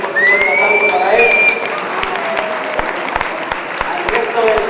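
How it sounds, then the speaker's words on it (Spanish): An audience applauds loudly at a formal ceremony, a dense continuous clatter of clapping hands with some crowd murmur mixed in, sustained throughout. "También pedimos un fuerte aplauso para él."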